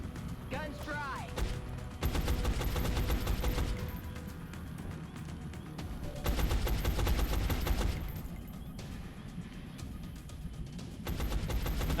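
Suppressive gunfire from XCOM: Enemy Unknown, long sustained bursts of automatic fire in two or three loud stretches, with a voice talking between and over them.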